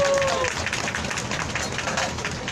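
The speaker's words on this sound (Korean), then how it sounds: "다시 한번 윤미향 정의기억연대 대표님께 큰 박수 부탁드리겠습니다." Outdoor crowd at a Wednesday protest rally applauds in a dense, continuous wash of clapping that stays at an even level.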